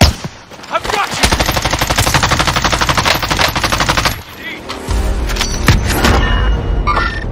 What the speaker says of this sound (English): I'm hit. Taking fire here!